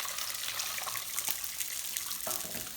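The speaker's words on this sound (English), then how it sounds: "while that salmon's cooking, we can drain our peas" Boiled peas, just cooked a couple of minutes in salted water, poured off through a strainer in a kitchen: a steady close trickle and splash of draining water running throughout, with no talking.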